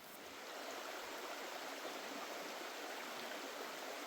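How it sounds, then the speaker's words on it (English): A river flows just below a wilderness campsite at Otter Creek, a steady, broad rushing wash that fades in and then holds even and continuous, with no voices. "We've got the river right down here"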